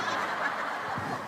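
A man imitating a chicken with his voice, giving a short clucking, fowl-like call in a hall before an audience, moderately loud over a steady room background.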